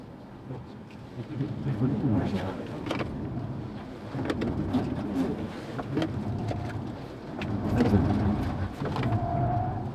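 A NETA GT 580 AWD electric car in sport mode weaving through a slalom, giving a muffled rolling cabin rumble that swells and eases with each turn, heard from inside under faint voices.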